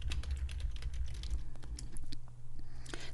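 Rapid keystrokes on a computer keyboard as a query name is typed into Microsoft Access, a steady run of close, crisp clicks over a low background hum with no talking.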